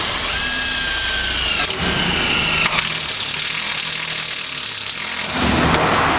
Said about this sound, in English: It's a drill and an impact drill. Impact hammer drill.